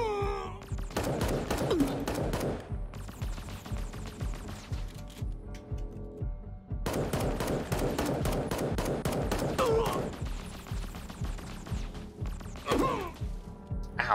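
Rapid bursts of gunfire from the Fallout: New Vegas video game, loud and close, with dense volleys separated by short pauses and a voice talking over parts of it.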